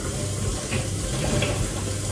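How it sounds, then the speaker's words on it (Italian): A cold water kitchen tap runs into the sink while pasta is drained, a steady close rushing gush with no talk over it. "Apriamo un po' il rubinetto d'acqua fredda per togliere un po' di vapore di acqua calda."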